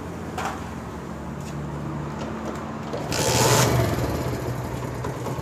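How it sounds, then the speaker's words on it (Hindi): A motorcycle being started during a rectifier repair, with the rectifier removed: a low, steady engine drone that swells into a brief loud burst partway through, then settles back to a rumble. "मोटर बाइक स्टार्ट करो बेटा।"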